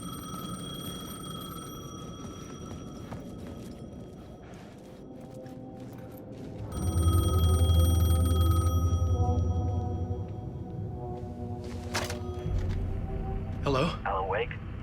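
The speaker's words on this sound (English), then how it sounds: "The payphone was ringing." A payphone rings repeatedly in the dark game world of Alan Wake 2, bell-like tones pulsing over a low droning ambience with a louder rumbling stretch midway, while a voice speaks.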